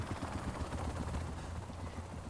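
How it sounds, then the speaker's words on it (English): A helicopter in the video game Dark Sector thrums with a steady rapid rotor chop, a continuous low pulsing beat at moderate loudness with no talk over it. "And cue helicopter."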